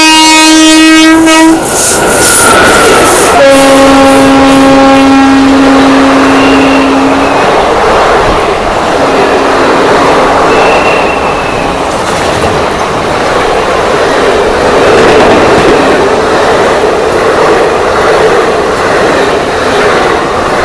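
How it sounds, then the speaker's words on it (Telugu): Seshadri Express draws near with a loud, sustained horn blast, then shorter horn notes over the heavy rumble and clatter of the passing train, continuing close and loud throughout. "అదిగోండి మన శేషాద్రి అయితే హార్న్ కొడుతున్నాడు"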